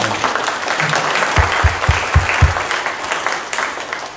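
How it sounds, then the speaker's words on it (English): An audience at a residents' meeting applauds with a loud, close wash of clapping, and a handful of sharp low thumps fall in quick succession midway through. "So let's give Mr. Gray a round of applause that he can bring home to Mrs"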